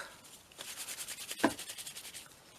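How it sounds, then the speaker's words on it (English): Velvet ribbon rubbed between the hands while being dyed, a soft continuous brushing friction with a rhythmic back-and-forth pulse and one louder scrunch midway, close and alone. "Just rub it in your hands."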